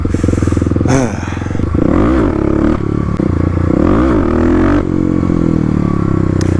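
A Kawasaki KLX351 dirt bike engine revs hard and repeatedly during clutch-up practice, its loud, close throttle blips rising and falling in pitch over a steady rumble, with no speech.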